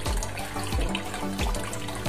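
Water pours into a pot of rice being readied for a thin rice gruel, a close continuous splashing stream with slight surges in flow.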